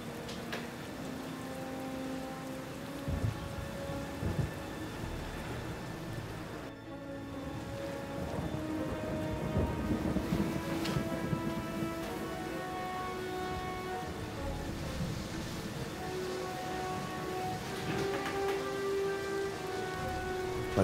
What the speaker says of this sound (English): The rain pattered dismally against the panes